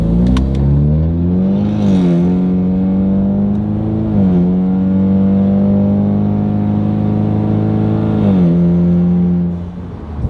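Ford Mustang EcoBoost with downpipe and straight-pipe exhaust, loud and close, holding a droning high rev with several blips rising and falling before dropping back toward idle.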